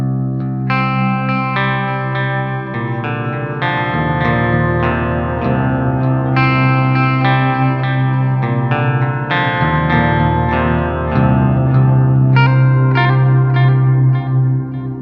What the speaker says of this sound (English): turn on my reverb and the intro echo, so my Helix is down here near my feet